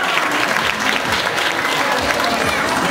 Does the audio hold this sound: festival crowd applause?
yes